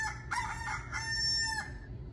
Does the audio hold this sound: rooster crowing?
yes